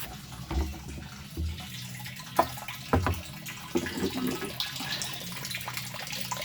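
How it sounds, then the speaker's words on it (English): Water drips steadily into a container in an aquaponics U-siphon setup, with splashes, irregular plinks and a running trickle close by, no voices. "You can hear it dripping in there."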